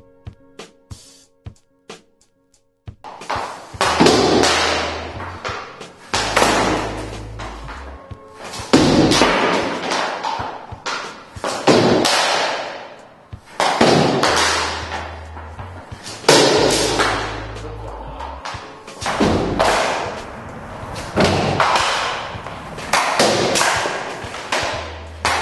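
Hockey pucks fired at a Super Shooter 2 target: a series of sharp, loud thuds and slaps repeat every few seconds, each followed by a short rattling decay, after a quiet opening.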